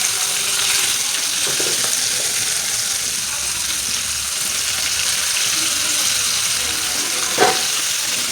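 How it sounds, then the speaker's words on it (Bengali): Pieces of chitol fish, seasoned with salt and turmeric, fry in hot oil with a loud, continuous close-up sizzle, broken by a couple of brief clinks from the pan. "আমি মাছগুলি ভেজে নিচ্ছি"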